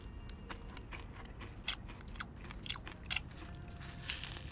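Someone bites into KFC salted egg cereal chicken, with close, quiet crunches and chewing sounds repeating irregularly throughout.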